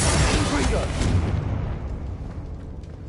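A Confringo spell blast in the video game Hogwarts Legacy, a loud booming burst that decays over a few seconds with rumbling tail.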